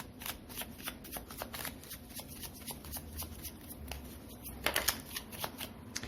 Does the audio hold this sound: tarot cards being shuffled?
yes